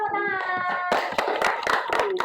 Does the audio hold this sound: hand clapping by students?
yes